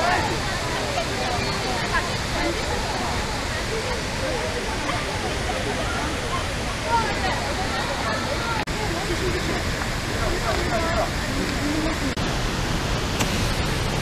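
Cheonjiyeon Waterfall at Seogwipo on Jeju Island, a steady broadband roar of falling water filling the whole stretch at a constant level, with faint crowd voices mixed underneath.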